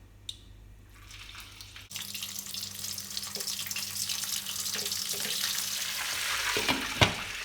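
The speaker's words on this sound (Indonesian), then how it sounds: "Panaskan minyak goreng, cukup banyak supaya ayamnya agak terendam. Ayamnya dulu saya goreng," Chicken pieces frying in plenty of hot cooking oil for galangal fried chicken, a steady crackling sizzle that swells after an initial quiet start, with a sharp clink near the end.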